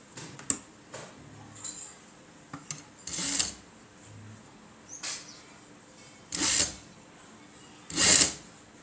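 A sewing machine stitches thread piping on a blouse, running in short bursts of rapid whirring with light clicks and pauses in between, the last few bursts louder and close by.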